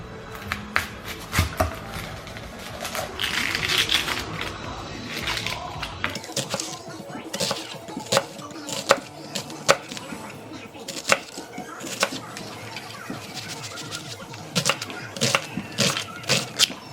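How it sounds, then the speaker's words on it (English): A knife chopping a small tomato on a cutting board at home: a series of sharp, irregular taps and thuds, close and fairly crisp, with brief pauses between bursts. "And also I'm gonna cut up this little bitty tomato."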